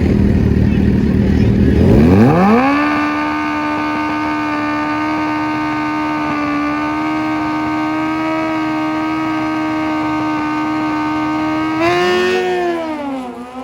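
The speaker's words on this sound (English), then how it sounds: "Boy, we got a drag race here, handlebar to handlebar." A Suzuki GSX-R1000 and a Hayabusa launch side by side in a motorcycle drag race, engines howling upward in pitch and then holding a loud, steady high-rev roar before a final rising surge.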